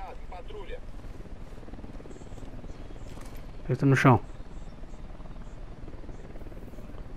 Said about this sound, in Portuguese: Tô escutando um barulho de helicóptero.